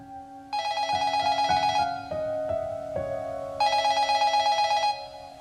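A telephone bell rings in two bursts of rapid trilling, separated by a pause with a lower steady tone and a few clicks, close and fairly loud.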